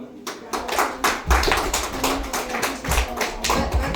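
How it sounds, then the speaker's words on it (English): An audience at a talk in Milwaukee claps, rapid overlapping hand claps forming a dense, steady patter throughout, fairly close and lively. "Let's have a big round of applause for all the speakers"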